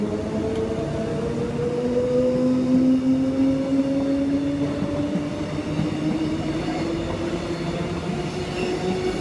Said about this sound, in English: we have EMU 80 and EMU 69 departing platform number 2.